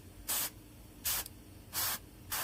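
An airbrush sprays paint onto a Necromunda miniature, the Ortruum 8-8 Psi-hound bounty hunter, in four short, sharp hissing bursts separated by brief pauses, with no talking.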